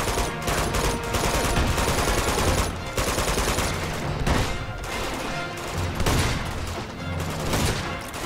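Heavy shotgun enemies fire in Uncharted 2: Among Thieves, a dense, loud barrage of overlapping shotgun blasts and rapid gunfire that runs continuously and barely lets up.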